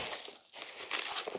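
Parcel packaging being cut open, a dry crinkling and tearing of plastic wrap that runs steadily and close by, with a short lull partway through and no talking.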